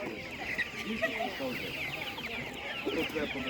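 Broiler chickens cluck at an outdoor animal market, a busy chorus of overlapping clucks and soft calls at moderate distance with steady background noise.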